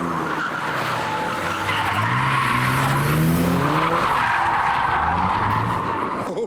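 A turbocharged Mark 1 MX-5 drifting at a car show, tires squealing continuously in a loud, wavering screech over a revving engine that rises and falls, sustained for several seconds without pause.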